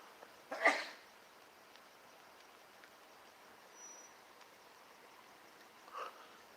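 A single sharp sneeze bursts out near the start, followed by quiet background hum and a fainter short noise toward the end.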